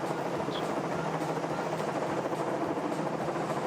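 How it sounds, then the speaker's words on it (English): A helicopter flies over a long-distance duathlon race in Zofingen, producing a steady, continuous rotor and engine drone that holds at a moderate distance throughout, with no talking. "Oh no, it's the helicopter."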